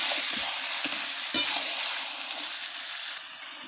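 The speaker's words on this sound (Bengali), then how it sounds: "ভালো করে মশলার সঙ্গে মাংসটা মিশিয়ে নিতে হবে।" Chicken pieces with spices sizzle in a frying pan as a spoon stirs them, a steady hiss with soft scraping strokes and one sharper clatter, close and alone.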